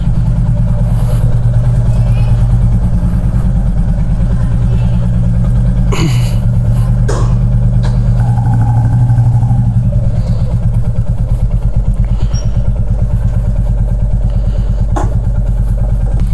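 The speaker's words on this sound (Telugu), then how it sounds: "ఫస్ట్ అయితే మనం కోల్డ్ స్టార్ట్ చేద్దాం." A Royal Enfield Classic 350 motorcycle, unridden for two days and standing in hot sun, idles after a cold start with a steady, close, thumping beat and a few brief clattering knocks.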